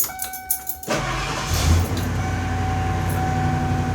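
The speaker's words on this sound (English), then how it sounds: "This is the first time I've turned the truck on with the mat down there." A truck engine cranks and fires up after a few short taps, then settles into a steady, close idle with a rough low rumble, running alone without talk.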